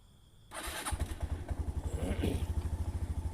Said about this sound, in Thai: ทีนี้ก็จะสตาร์ทมอเตอร์ไซค์นะครับ